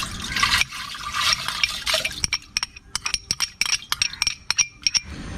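Water is poured into a glass container while making grape wine, a splashing gush at first, then a run of bright clinks and drips against the glass, close and clear.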